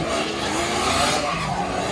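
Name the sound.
truck doing a tire burnout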